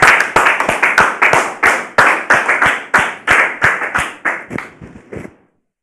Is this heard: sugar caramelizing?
no